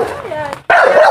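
An American Bully dog barks close by, a short pair of loud barks breaking through as people chatter excitedly around it.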